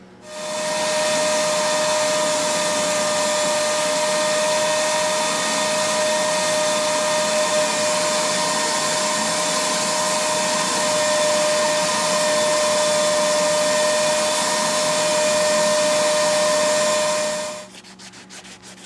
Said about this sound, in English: got as much out as I can with the vacuum